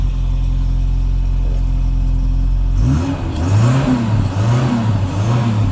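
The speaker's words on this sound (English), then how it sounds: "I'll give it a little rev" A 1978 Volvo 240 DL estate engine idles quietly with a steady low hum, then revs in loud rising and falling swells, about three blips in a row, up close and alone.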